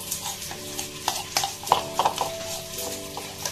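Chicken mixed with soy sauce, honey and a little salt, stirred in a bowl, giving soft repeated clinks and wet scraping knocks at a steady, uneven pace, close and fairly quiet, with a faint background hum.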